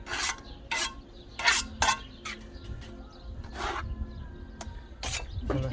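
A trowel scrapes and works render mortar onto a wall while prepping for monocouche render and brick repairs, giving irregular rasping strokes and quieter background noise throughout.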